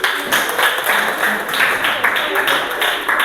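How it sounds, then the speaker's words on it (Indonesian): A classroom audience applauding a student group after its presentation, moderately loud scattered clapping with rhythmic bursts, voices mixed in. "Tepuk tangan untuk kelompok 1."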